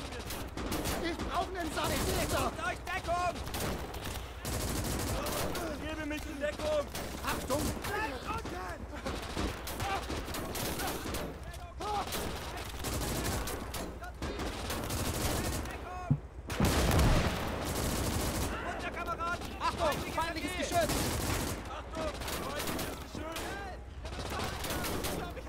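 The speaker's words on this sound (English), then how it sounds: "Deciding to use the rear machine gun instead." A vehicle's rear machine gun fires in Gates of Hell: Ostfront, with steady rattling bursts amid wider battlefield gunfire and explosions throughout, while someone talks over the action.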